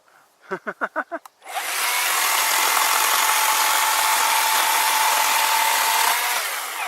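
A Worx electric chainsaw cuts firewood. A few short revs come first, then the motor holds a long, loud, continuous whine as the chain bites through the wood.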